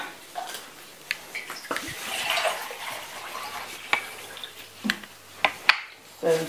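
One and a half litres of water poured into a pot in a home kitchen for an apple and pudding cake, heard as a soft splashing pour broken by a few sharp clinks and knocks.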